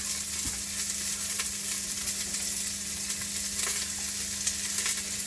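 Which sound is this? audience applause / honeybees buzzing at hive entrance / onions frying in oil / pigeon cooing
onions frying in oil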